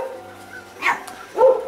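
Dogs bark at night near a backyard garden pond, two short bursts about half a second apart against a quiet background, the second louder and closer.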